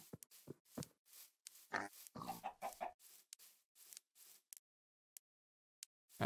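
Blocky Minecraft chickens cluck in a string of short bursts, close and fairly quiet, with pauses and a few isolated clucks toward the end.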